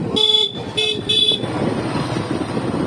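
On a motorbike ride along a flood embankment in the Ghatal flood area, a horn gives three quick toots. A steady engine and road rumble then carries on alone.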